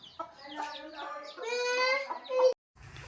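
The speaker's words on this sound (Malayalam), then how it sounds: "ഇതാണ് ഇവിടുത്തെ നാടൻ കോഴികൾ." Native country hens, some of them silkies, clucking and chattering close by in a coop at nightfall, a busy overlapping run of clucks and squawks that stops abruptly.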